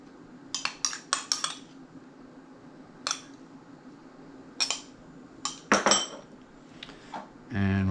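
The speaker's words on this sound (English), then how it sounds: "just going to mix that around with the tines of a fork, just to make sure that it's all kind of swirled throughout" A fork stirs strawberry pulp through ice cream in a bowl, giving a string of bright metallic clinks and taps against the dish, some in quick clusters, then a louder scraping rush at the end.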